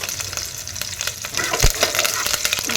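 Curry leaves hitting hot oil in a pan while cooking moong dal palak sambar, a broad crackling sizzle with a sharp burst partway through, steady frying continuing close by.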